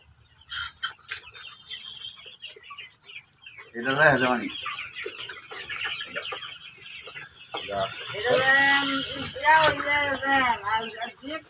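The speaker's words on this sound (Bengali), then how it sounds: "আচ্ছা, কাজী কোম্পানি টাইগার মুরগি এগুলা।" Kazi Tiger breed chickens on a poultry farm cluck and call in bursts, close and fairly loud, mixed with people talking over a faint background hum.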